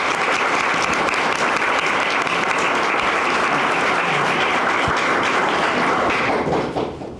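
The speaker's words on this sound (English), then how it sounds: "Please join us in a round of applause for our sponsors." An audience at a gala applauds for the event's sponsors, a dense, steady wash of clapping that holds loud for several seconds and then fades near the end, with no speech.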